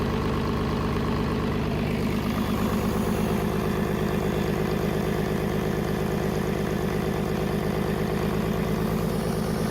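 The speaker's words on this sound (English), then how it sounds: "During startup, the distinctive deep growl of the engine quickly stabilizes into a smooth rhythm, signaling its reliable German engineering" A restored MAN D2676 six-cylinder diesel engine runs with a deep, even, rhythmic throb that stays steady and loud throughout, close up and alone with no talking.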